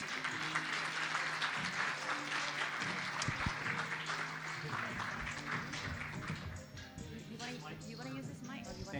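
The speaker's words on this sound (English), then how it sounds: "Round of applause." Applause at a leadership summit in Singapore, a faint, sustained wash of clapping from the audience mixed with background music and murmuring voices.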